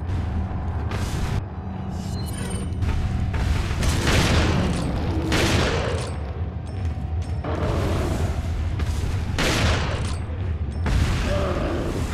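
A grenade goes off in Resident Evil 4 on PS5, one of several heavy booms and bursts spread through loud game combat that carries crackling debris and mechanical clatter.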